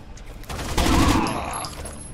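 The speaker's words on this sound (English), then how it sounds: "How many times do I have to shoot his face?" Gunfire in the video game Rainbow Six Vegas comes as a quick cluster of sharp overlapping shots, loud and close, with a brief ringing tail.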